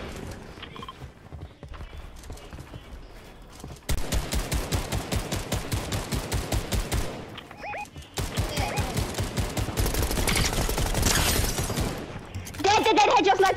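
Rapid sniper and rifle shots in a video game firefight, loud and sharp in clustered volleys, some echoing, with excited voices talking over and between the bursts.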